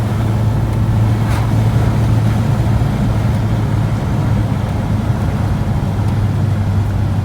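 Austin Allegro engine running steadily while driving, a continuous low drone with a constant hum and road rumble that stays loud throughout, no voices heard.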